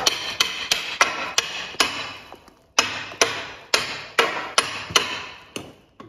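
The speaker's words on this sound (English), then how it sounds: "we'll get a hammer here and break that bolt off" A hammer strikes a bolt on a moldboard plow to break it off, with about fifteen loud, close metallic blows in two quick runs split by a brief pause, each ringing briefly before the next.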